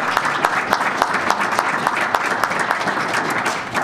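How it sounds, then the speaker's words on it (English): An audience applauds panelists after a discussion on getting around the meter, a lively burst of many hands clapping with some sharp individual claps standing out, steady for several seconds. "Please, can we have a round of applause for our panelists?"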